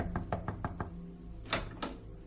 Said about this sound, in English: walked up the driveway, and knocked on the front door.